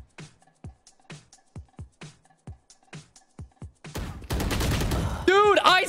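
Rapid bursts of gunfire from the video game Valorant, a run of evenly spaced sharp shots followed by a louder, denser volley with effects near the end.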